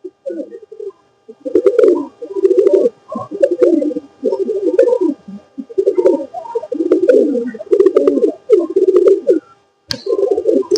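A pigeon coos loudly and close, in repeated rolling phrases separated by short pauses, with no talk.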